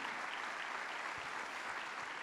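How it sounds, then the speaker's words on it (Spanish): A church congregation applauds at a Sunday service, a steady, dense wash of clapping filling the space at moderate distance, without a break or clear voices over it. "dele fuerte ese aplauso al Señor"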